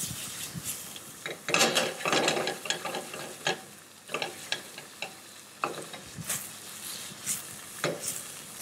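Squab livers seared with shallots in a hot pan, with a steady sizzle as they are stirred and turned, punctuated by light scrapes and clinks of a utensil against the pan, close and moderately loud with no talking.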